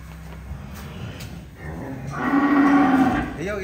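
Cattle for sale, a pair priced together at a rural farm with an old pen, give one loud, drawn-out moo midway that swells and fades, preceded by quieter outdoor background noise.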